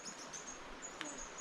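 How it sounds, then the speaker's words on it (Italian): Small songbirds high in the trees of Los Alerces park in Patagonia give thin, high, faint chirps and whistles over a soft airy background, with one brief sharper call. "Questo è il rumore di questi meravigliosi passerottini che stiamo vedendo fra gli alberi"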